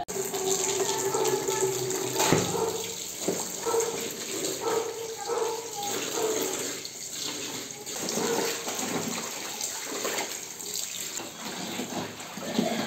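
Tap water runs steadily into a sink while soaked clothes are rinsed and washed by hand at home, a continuous splashing flow with occasional sloshing and handling noises.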